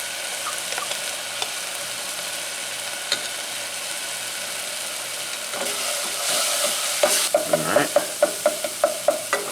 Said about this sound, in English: stir this in, nice and fragrant